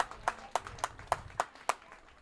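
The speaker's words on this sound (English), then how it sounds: "Big hand of applause all around." Sparse, evenly spaced hand claps from a small crowd at a South Africa Under 30 bowls final, about seven sharp claps in a steady rhythm, moderately close, with faint background murmur.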